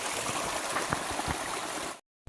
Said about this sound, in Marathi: हा निसर्गाच्या सानिध्यात असलेली देणगी आपली झरा पाण्याचा झरा